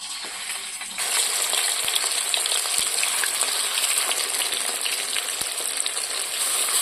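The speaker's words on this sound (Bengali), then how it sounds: "তেল গরম হয়ে গেছে, আমি এখন মাছগুলো দিয়ে দেব।" Shol fish drop into hot mustard oil. After a second of quieter hiss, a loud, steady sizzle takes over and carries on close up, with a few faint clicks from the pan.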